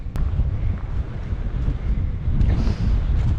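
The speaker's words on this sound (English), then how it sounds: "it is very windy and a little bit chilly" Strong, chilly wind on a hike up the Old Man of Coniston in the Lake District buffets the microphone with a steady low roar, gusting continuously throughout.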